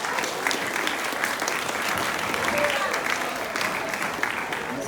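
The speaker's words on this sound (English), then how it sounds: "let's applaud the winners again" A crowd at a school foreign language prize giving claps steadily and warmly for winners, a sustained burst of applause filling the space without pause.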